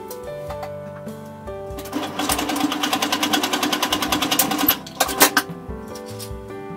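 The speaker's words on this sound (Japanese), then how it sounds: "観音折りにしてミシンで縫い合わせた後" A domestic sewing machine stitching folded outer fabric for a shoulder bag, running in a fast rhythmic burst of needle strokes for about three seconds, with shorter starts and stops around it, close and alone.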